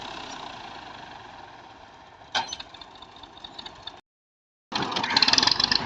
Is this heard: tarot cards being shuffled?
no